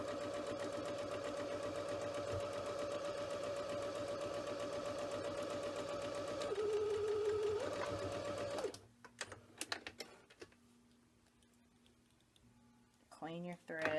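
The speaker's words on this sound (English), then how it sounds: "I got it on my machine, I dropped my presser foot, drop my needle, begin sewing, reverse to lock the seam, and then go straight along the edge." A home sewing machine stitches along a fabric edge while making a pincushion and floss tag, giving a steady close mechanical whirr that briefly shifts pitch during reverse and then stops. Speech follows.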